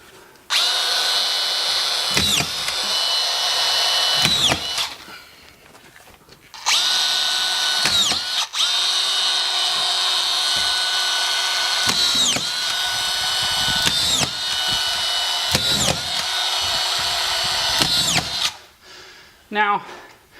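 Screw gun with collated screws driving drywall screws into sheetrock along a rounded corner, several long whining bursts of a few seconds each separated by short pauses and clicks, loud and close.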